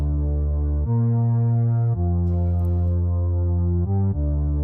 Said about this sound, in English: And that's just a bass sound.